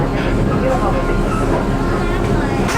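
Macedonia Railways passenger train on the rural Bitola to Skopje line, a steady loud rumble and rattle of the carriage rolling along without pause, with faint voices in the background.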